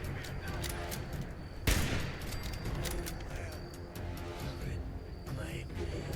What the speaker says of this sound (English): Somebody's shooting me from up top.